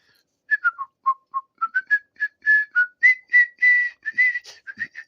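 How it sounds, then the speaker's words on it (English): A man whistles the bright, bouncy melody of Dixie alone, clear and close, with short notes building into longer held ones. "Apparently, I am whistling Dixie."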